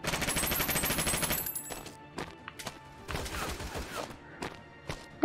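Gunfire in the World War II shooter game Honor and Duty: D-Day, starting with a dense, continuous machine-gun burst and then breaking into scattered single shots and short bursts, with no talk over it.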